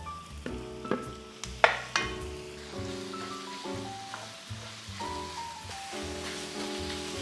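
Half a kilo of pork sizzles as it hits a hot pan, with steady crackling frying and a few sharp clinks and stirring knocks of utensils against the pan.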